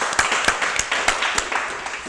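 A small audience claps for new members joining a reparations gathering, the applause coming as a series of sharp, fairly close claps in an uneven rhythm.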